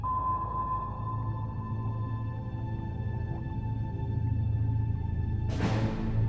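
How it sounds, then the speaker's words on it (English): Active sonar from a World War II destroyer hunting a submarine underwater: a steady tonal ping rings through a low rumbling background, with a sharp broadband burst near the end. "vulnerable to the destroyer's active sonar pings"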